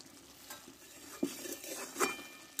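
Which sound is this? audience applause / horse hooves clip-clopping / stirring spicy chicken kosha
stirring spicy chicken kosha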